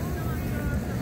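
Strong wind buffets a microphone outdoors in Istanbul, a dense continuous low rumble that fills the whole moment, close and loud, with a voice faintly underneath.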